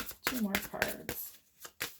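Tarot cards shuffled in quick riffling bursts, with a voice speaking over the papery flutter throughout.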